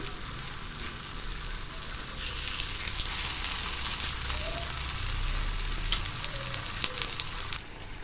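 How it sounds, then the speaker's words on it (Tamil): Potatoes fry in hot oil and get turned over, filling the clip with a dense, steady hiss and crackle that swells slightly midway, punctuated by faint clinks of the utensil, near and unbroken. "இப்போ திருப்பி திருப்பி விட்டு ஃப்ரை பண்ணி எடுத்துடலாம்"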